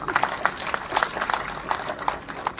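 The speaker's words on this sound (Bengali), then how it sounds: "ওর জন্য একটা হাততালি দিই" Audience at the 21st Tele Cine Awards 2024 gives a round of applause, a dense steady patter of many hands clapping at moderate loudness with crowd murmur, no speech over it.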